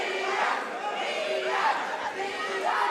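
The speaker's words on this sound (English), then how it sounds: "I don't think Tyson Pierce likes the crowd chanting Ian's name like this." A boxing arena crowd chanting a fighter's name, a dense, steady roar of many voices rising and falling in a repeated rhythm throughout.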